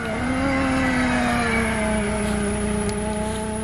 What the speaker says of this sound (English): The Lysum is a Swedish twin screw style supercharger that gives it the fire truck sound